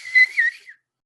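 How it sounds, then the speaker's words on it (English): A short human whistle with a few rising and falling notes lasting under a second, close and clear, then silence. "My whistling's off."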